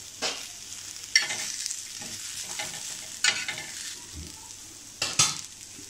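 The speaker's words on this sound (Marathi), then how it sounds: "मी एक कांदा घेतला आहे, त्याला आपण थोडं गुलाबीचा रंग येईपर्यंत भाजून घ्यायचं आहे" An onion roasting on a hot griddle for Malvani masala gives a soft, steady sizzle, broken by a few sharp scraping bursts as it is stirred and turned.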